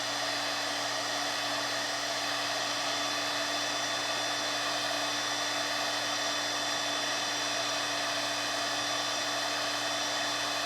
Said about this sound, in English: And I'm constantly moving the Kydex and the heat gun.